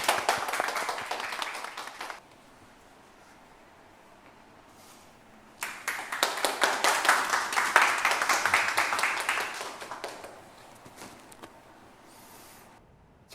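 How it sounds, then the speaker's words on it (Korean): An audience at a residents' general assembly claps in two bursts of applause, the first short and the second longer and louder, with a quiet pause between them. "뜨거운 박수로 격려해 주시기 바랍니다"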